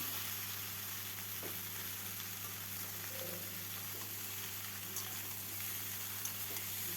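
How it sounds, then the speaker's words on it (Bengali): Jackfruit fries in a pan with a steady sizzling hiss over a low hum, while occasional faint stirring scrapes come through and nobody speaks. "কাঁঠালটাকে দিয়ে ভালোভাবে নেড়ে নেব"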